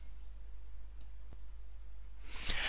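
A computer mouse clicks a few times, faint and dry, sharpest near the end against a quiet background hum.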